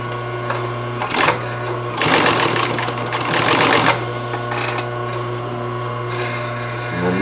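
A sewing machine stitching a seam, a steady mechanical hum that swells into fast rattling bursts of stitching, then settles back to a quieter running whir.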